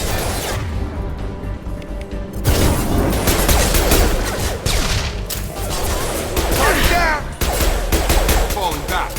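Sustained automatic weapon fire in the Mass Effect video game, loud and close, with rapid overlapping shots and brief breaks between bursts for about nine seconds.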